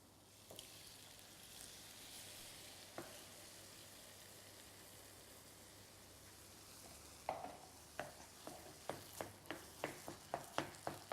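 Stock going into a sizzling mince mixture for cottage pie, with a low frying hiss and then a run of rhythmic, quiet scraping strokes as a spoon stirs, growing more regular toward the end.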